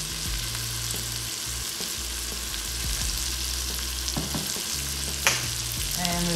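Onions and ginger garlic paste frying in a pan while butter chicken is being cooked, giving a steady broadband sizzle with occasional stirring scrapes and one sharp clink near the end, close and fairly loud, with no talking.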